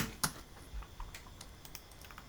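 Keys tap on a laptop keyboard as a command is typed, a quiet, uneven run of light clicks at close range with no talking.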